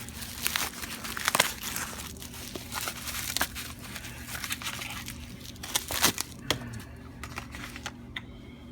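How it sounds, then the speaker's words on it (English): Package being cut open with a blade on a motorcycle restoration bench, the crinkling and tearing of packaging material coming in short, close bursts of scraping and rustling with a steady low hum behind. "Let me just cut that open there."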